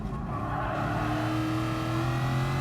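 A 1965 Shelby Cobra's engine holds a steady, close, throaty drone with a slowly rising pitch while it drives through a curve.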